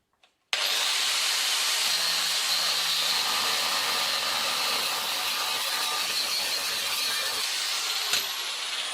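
An angle grinder cuts into the metal strip holding the two halves of a central heating expansion vessel together, starting abruptly into a loud, steady, hissing grind that continues without pause.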